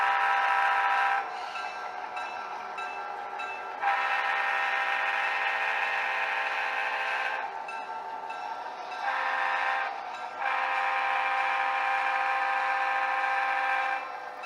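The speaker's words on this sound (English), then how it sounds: "With a rail boxcar in tow, our GP7 heads back to the yard." GP7 diesel locomotive hauling a rail boxcar back to the yard on a Missouri Pacific line, its horn sounding in several long blasts with short gaps, loud and nearby, with no talk.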